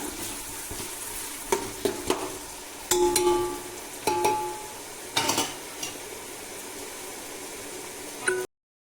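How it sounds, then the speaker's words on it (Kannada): Chopped tomatoes are stirred into a hot frying pan for soybean biryani: a constant close sizzle with a spoon scraping and clinking against the pan at irregular intervals, and no voices. "ಟೊಮೊಟೊ ಇದ್ರೆ ಹಾಕೋಣ ಹಾಕಿ ಒಂದು ಮಿಕ್ಸ್ ಕೊಡೋಣ"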